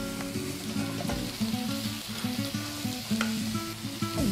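Chicken fries dry in a pan with garam masala, a close, continuous crackling sizzle with stirring scrapes and clinks over a low background hum, no voices.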